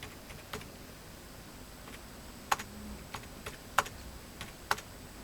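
Keyboard shortcut typed in Tally Prime accounting software, sparse crisp key taps spaced irregularly in a quiet room with faint background hiss.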